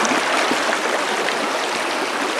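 A flowing stream at a campsite: continuous, steady rushing and babbling water, close and fairly loud, with no voices.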